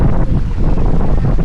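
Wind gusting around a sailboat in gusts of up to about 32 knots, a loud, continuous buffeting roar with rushing water beneath, steady throughout without speech.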